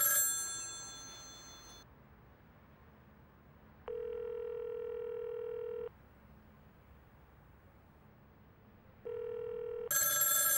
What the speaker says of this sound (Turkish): Arayan Zeynep'tir. Açma